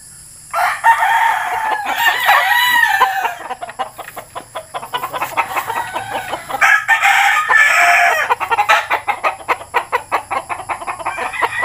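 A Beatles White straight comb rooster crows loudly and close by, in two long calls, with bursts of clucking and rapid rhythmic pecking or scratching between and after them.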